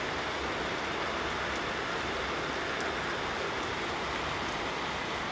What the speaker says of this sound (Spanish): aún así esté la lluvia a todo lo que da